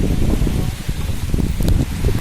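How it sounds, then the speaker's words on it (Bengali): Strong gusting wind and rain of Cyclone Remal buffet close by, a loud continuous rushing roar with rumbling low gust pulses and a rattling, rain-like hiss throughout. "বাতাস বইছে খুব জোরে জোরে আর ঝোড়ো হাওয়া দিচ্ছে"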